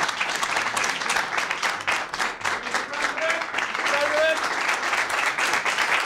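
Audience applauding at a presidential event for private sector supporters of US defense policies, sustained dense clapping throughout with voices calling out over it.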